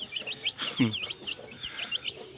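A mother hen in a family flock with her first brood of chicks clucks in several short, close bursts, with chirps and faint background voices.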